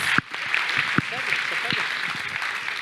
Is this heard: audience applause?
yes